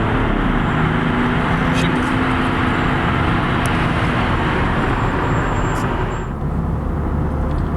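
A BMW E61 530xd estate pulling hard from a standstill toward 100 km/h, a loud, steady engine and road roar heard from inside the car that holds nearly constant before briefly dipping near the end.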